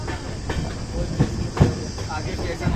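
The 13005 Howrah-Amritsar Mail passenger train rolls along past Gauriganj station with a steady rumble and periodic wheel clacks, heard from aboard while a voice talks over it.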